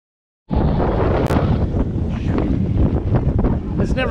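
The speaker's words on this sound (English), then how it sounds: "It's pretty windy." Strong wind roars steadily across the microphone aboard a small sailboat in stormy weather, loud and continuous from start to finish after a brief quiet opening.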